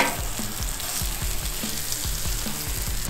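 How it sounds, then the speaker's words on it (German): Food sizzles on a grill with a steady, loud frying hiss, with rhythmic low thumps underneath and no talking. "Das lasst ihr jetzt schön auf den Grill gehen. Ihr hört den Sound schon, das ist echt richtig geil."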